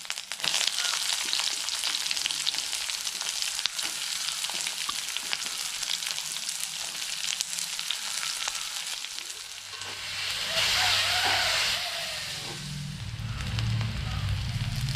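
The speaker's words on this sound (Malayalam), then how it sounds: "ചൂടായ എണ്ണയിലോട്ട് നമ്മൾ ആദ്യം കറിവേപ്പിലയും നന്നാക്കി വെച്ചിരിക്കുന്ന ചെറുള്ളി ഇട്ട് കൊടുക്കണം" Curry leaves and shallots sizzle and crackle steadily in hot oil for a karimeen pollichathu masala, a loud continuous frying hiss that swells briefly near the end with a few stirring scrapes.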